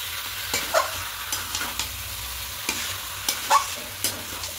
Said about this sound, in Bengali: দিয়ে খুব ভালো করে আমি মিশিয়ে নেবো চিনির সাথে।